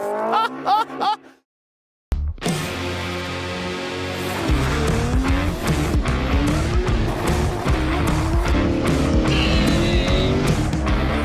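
Toyota MR2 race car on a circuit spinning off track: a short burst of voices, a moment of silence, then loud engine roar with squealing tires and skidding, continuing as a dense rumble.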